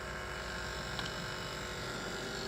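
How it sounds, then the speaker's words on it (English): Refrigerant recovery compressor working on a leaking cylinder, straining as liquid is drawn back into it, giving a steady low electric hum with a faint rattling pulse, fairly quiet and without speech. "And now the compressor's labouring a bit because it's getting liquid flung back into it."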